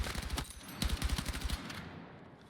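Rapid micro-bursts of automatic gunfire from Battlefield 6, short clusters of sharp, loud shots fired in quick succession, then stopping and trailing off into a fading echo.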